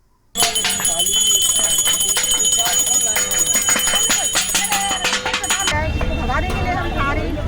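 Protesting staff nurses at a district hospital in Guna blow conch shells together, several loud, sustained horn-like tones layered in a droning chorus that starts abruptly and stops, followed by background voices.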